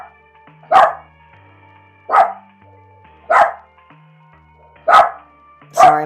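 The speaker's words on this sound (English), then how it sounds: "my dog's barking" A pet dog barks loudly five times at even intervals, each bark sharp and close, with soft lofi music underneath.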